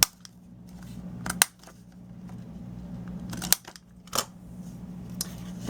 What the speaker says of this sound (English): I'm going to round the corners on this as well.